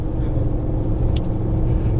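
A 2020 Nissan Titan Pro4X pickup towing a Jeep labors up a mountain grade in fourth gear near 3,000 RPM, giving a loud, steady low engine drone with a faint rattle on top.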